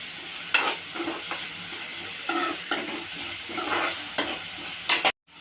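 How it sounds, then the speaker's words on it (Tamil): Onions and green chilies sauté in a pan for egg pepper rice, with a steady sizzle and repeated scraping strokes of a stirring spoon, close and fairly loud, then cut off abruptly near the end. "சேர்த்துட்டோம், நல்லா வதங்கட்டும்."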